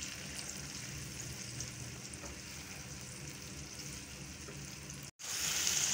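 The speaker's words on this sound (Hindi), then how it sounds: "ये देखें जो मैंने मसाला डाला है इसको अच्छे से पका लेंगे" Spices for dal kofta curry, red chili powder among them, frying in an oil-filled pan with a steady close sizzle that runs alone for about five seconds, breaks off briefly, then returns louder.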